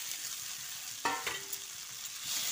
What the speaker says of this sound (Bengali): আলুটা খানিকক্ষণ কষিয়ে নেওয়ার পর এর মধ্যে ভেজে রাখা ফুলকপিটা দিয়ে দিচ্ছি